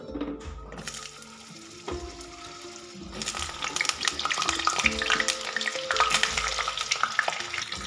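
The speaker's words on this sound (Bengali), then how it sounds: "এখানে তেলটা আমার গরম হয়ে গেছে। এতে আমি দিয়ে দিচ্ছি কেটে রাখা পটল" Cut pointed gourd and potato drop into hot oil, bursting into loud close sizzling frying that swells after a few clattering stirs, with no voices over it.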